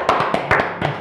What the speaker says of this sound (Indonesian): tepuk tangan untuk Ji Dewo.